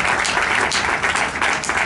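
Guests at an awards ceremony in Madrid's Casino de la Gran Vía give a brief, loud burst of applause, the clapping swelling in uneven waves over about two seconds.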